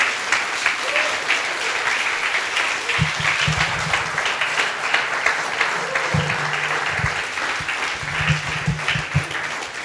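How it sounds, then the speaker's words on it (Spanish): A church congregation at a Spanish-language service claps steadily and loudly throughout, with occasional low deep tones from instruments or a voice sounding beneath the sustained applause. "Pues denle un aplauso al Dios para que despierten"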